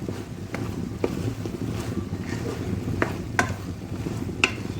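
Cooked bulgur being stirred in a pan after the lid comes off, a low steady rustle of grains broken by several sharp metallic clicks and knocks spaced a second or so apart.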